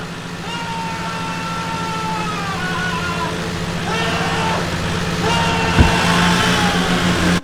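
A car engine in Drive Beyond Horizons crawls along at about 20 km/h with a steady low drone, while tonal wavering sounds like music or bleats drift over it and a brief thump lands near the end.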